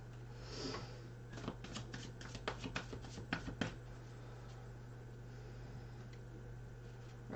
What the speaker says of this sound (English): Right, CJ, I'm shuffling yours now, mate.